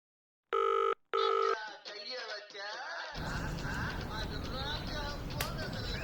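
A telephone rings twice in short, loud electronic bursts, then goes unanswered as quieter murmuring and a busier, noisier background take over.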